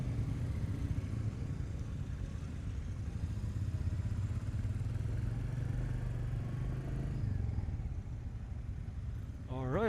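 A 2021 Royal Enfield Meteor 350 Fireball, a 350cc cruiser, is being ridden, its engine a steady low rumble that holds close and continuous throughout, with a brief voice near the end.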